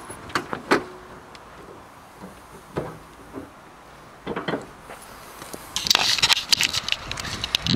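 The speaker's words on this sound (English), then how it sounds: "open the bonnet for you" The bonnet of a 2015 Peugeot 3008 1.6 Active is released and lifted, with a series of close clicks, clunks and scraping metal sounds spread out in bursts, ending in a louder rattling rush.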